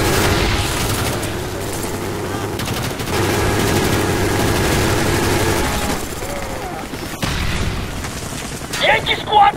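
Heavy combat in Call of Duty Black Ops, RPG blasts and gunfire erupting around a bridge, a dense continuous roar of booms and rattling shots with a brief lull near the end, voices calling out underneath.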